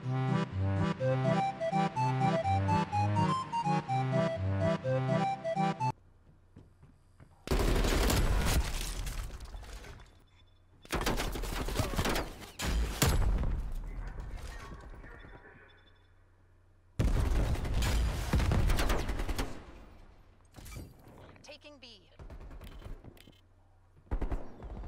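Bursts of loud gunfire in Black Ops Cold War, with rapid repeated shots in several separate volleys broken by short quiet gaps, and brief music at the start.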